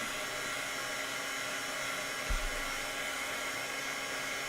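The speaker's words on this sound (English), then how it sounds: "what we want to do is heat emboss it until it changes and then move" A heat embossing tool blowing hot air over a stamped resist card, giving a steady, close, continuous fan-and-air hiss that runs through the whole clip with a brief low bump midway.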